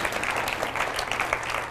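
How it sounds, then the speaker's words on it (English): Audience applause at an evening event thanking the people who helped set it up, a dense steady wash of clapping from a sizeable crowd, sustained throughout without a break. "just give a round of applause to everyone who helped set this up tonight"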